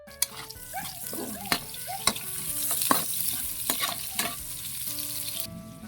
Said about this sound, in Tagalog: Gigisan tayo. Lagay tayo ng mantika. Lagay tayo ng luya, bawang,